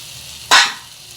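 Fried potatoes drop into sizzling masala for doi aloo dum, giving a single sudden loud hiss that fades within a fraction of a second over a quiet kitchen background.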